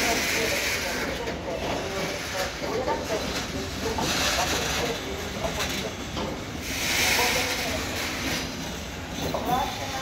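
A freight train passes through Benešov u Prahy station with a continuous rumbling roll of wheels on rails, a broad hiss and steady noise at close range. Voices or a station announcement are faintly heard beneath it.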